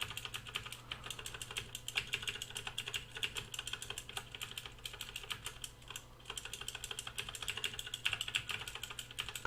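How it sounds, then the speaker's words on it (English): Rapid, steady clatter of keys on a Commodore 64 keyboard as arrow keys are pressed repeatedly, close and fairly quiet over a low electrical hum, with no talking. "Use the arrow keys right here."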